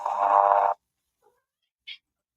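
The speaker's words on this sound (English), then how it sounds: "I'm sorry if you can hear my cat in the background." A single drawn-out cat meow, fairly close and indoors, followed by silence and a faint brief chirp.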